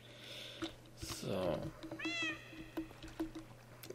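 A cat meows once, close and clear, against steady background hum and light clicking, with a person's voice briefly around it.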